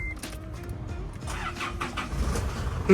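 A 2008 Isuzu MU-7 3.0 VGS Turbo with automatic transmission starts up, a low rumble that rises into a steady diesel idle, fairly loud and close, with no talk over it.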